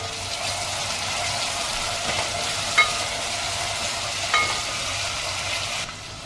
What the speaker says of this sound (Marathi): त्याच्यामध्ये आपण टोमॅटो टाकूया, परतून घेऊया